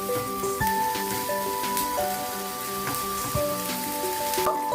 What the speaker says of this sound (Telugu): మనం పెప్పర్ పీసెస్ వేసేసి చక్కగా టోస్ట్ చేయాలండి.